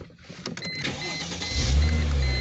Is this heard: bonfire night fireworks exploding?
no